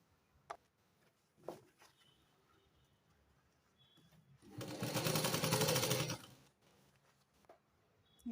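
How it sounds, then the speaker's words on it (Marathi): A sewing machine stitches piping onto fabric in one short, steady run of about two seconds, preceded by a few faint clicks and quiet handling of the cloth. "व्यवस्थित पलटवून पलटवून सावकाश शिलाई द्यायची इथे मी पूर्ण पायपिंग करून घेते"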